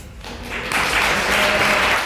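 Applause breaks out at a Keller ISD school board meeting, starting quietly with a murmur and then swelling into loud, sustained clapping from a packed room.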